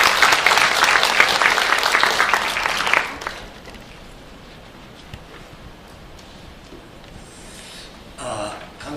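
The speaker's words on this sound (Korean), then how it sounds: "큰 박수로 환영해 주시기 바랍니다." An audience at an international forum claps to welcome a speaker, loud applause for about three seconds that fades abruptly into quiet room tone, with a brief burst of noise near the end.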